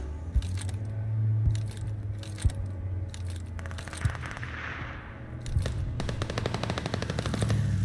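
Rapid bursts of machine gun fire in the shooter game Call of Duty: Vanguard during a free-for-all match, loud and close, with sharp single shots early and a sustained rattling stream near the end over a steady low hum.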